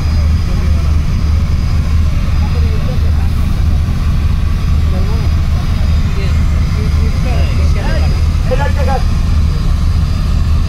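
Passenger launch Sundarban 16 overtaking another launch on a river, a steady loud engine drone with low rumble filling the whole stretch, wind and water noise mixed in, with a voice talking over it.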